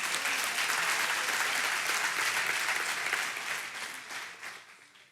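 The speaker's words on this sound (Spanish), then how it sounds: "dar un aplauso a Dios si lo recibes" A church congregation claps in a steady, dense round of applause that fades toward the end.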